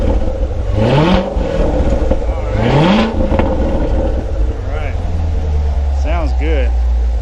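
A Chevrolet Corvette C7 Grand Sport V8 fitted with an AFE Momentum cold air intake revs twice in rising throaty sweeps, then blips lightly at idle, close and loud, with voices heard alongside.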